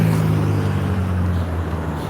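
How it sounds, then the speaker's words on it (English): A Porsche rolling past, a continuous loud low engine and tyre rumble close by that fades only slightly over two seconds, with no talking. "Ooh, that's a nice Porsche, man, that just rolled by, man."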